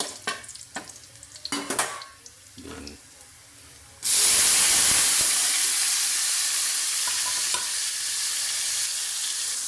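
Garlic frying in a pan until brown: a few clattering stirs and knocks, then a sudden loud, hissing sizzle bursts in and continues steadily, easing slightly toward the end.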